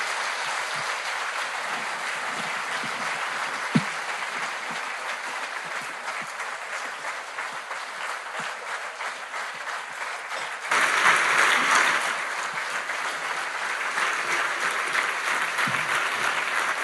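An audience at a church gathering claps for a long stretch in dense, steady applause that swells louder for about a second partway through, then settles back to even clapping.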